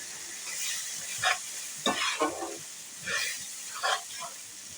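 Cabbage with turmeric being stir-fried in a pan for a hilsa fish and cabbage dish, with soft hissing sizzle and several scattered stirring scrapes, fairly quiet, with no voices.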